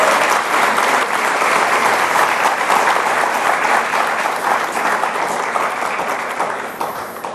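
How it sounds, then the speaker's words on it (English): Sustained audience applause at the India Today Conclave 2024 welcoming Dasho Tshering Tobgay, Prime Minister of Bhutan: dense, steady clapping from a large crowd that holds evenly for several seconds before tapering slightly at the end. "Please give him a very warm round of applause."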